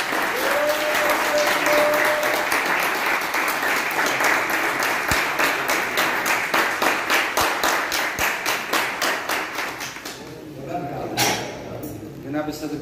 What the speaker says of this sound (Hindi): बहुत सी तालियों में लाहौर के इस मेहमान का इस्तकबाल कीजिएगा, जनाबे नुसरत आरफी।